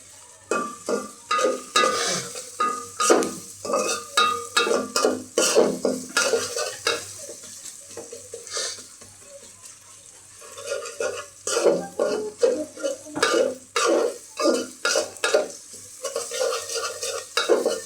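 Onions frying low and slow toward crisp beresta in a pan, stirred with a utensil in steady repeated scrapes over a continuous close sizzle, with a brief quieter stretch midway.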